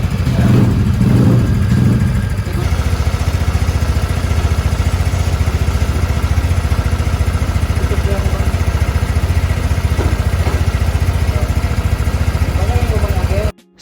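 A modified carbureted Honda Vario 110 scooter, bored up with a 53mm throttle body, idles loudly and steadily up close after a brief opening rev, its engine note droning on until it cuts off abruptly.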